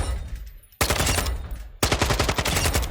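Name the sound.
gunfire in Warzone 2.0 video game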